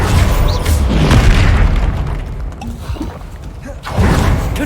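An Incendio fire spell goes off in Hogwarts Legacy combat amid loud booming blasts and whooshing bursts, easing off midway before another heavy blast swells at the end.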